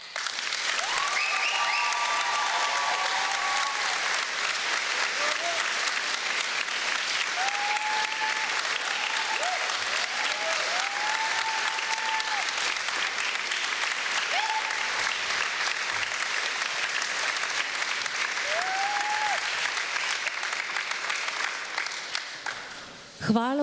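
An audience applauds at a regional gathering of children's folk dance groups, with loud, steady clapping held throughout at full strength and no voices standing out.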